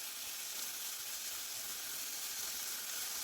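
Prawns salted and sautéing in a pan for a Kerala chemmeen mulakittathu give off a steady, even sizzle and hiss, close and constant with no talk.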